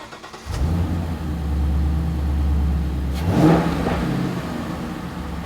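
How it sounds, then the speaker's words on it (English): A 2015-2017 Ford Mustang GT V8 fitted with a Holley iNTECH cold air intake starts with a burst, then holds a deep, loud idle and blips the throttle into one sharp rev near the end before settling back. "let's fire it up, hear how it sounds"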